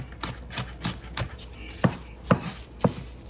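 A knife chops vegetables finely on a cutting board for a taco salad bowl, a series of sharp, close, evenly spaced taps that grow firmer toward the end, with no talking.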